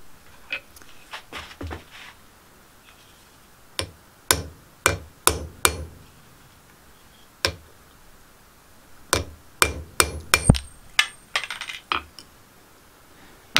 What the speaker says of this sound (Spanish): Así que a cortar el clavo.